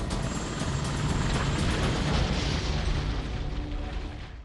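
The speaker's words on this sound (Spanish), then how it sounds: "El helicóptero se estrella con fuerza contra los árboles." A Black Hawk helicopter crashes into pine trees at night in fog, heard as a sustained loud, dense roar of impact and tearing noise that slowly fades out.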